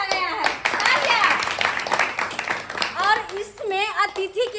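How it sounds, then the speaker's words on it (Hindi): Children clap at an Independence Day program at a village school, with a burst of hand claps near the start under an excited voice, which carries on over further scattered clapping throughout. "तालियां।"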